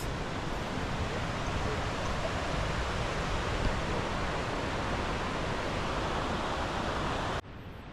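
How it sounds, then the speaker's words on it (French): A mountain waterfall across a valley in the Alpes de Haute Provence gives a steady, distant rushing hiss that holds evenly for several seconds before dropping slightly in level at the very end, with no voices. "Cascade juste en face."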